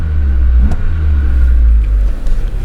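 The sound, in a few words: 1988 Honda Civic Shuttle EF2 engine revving while driving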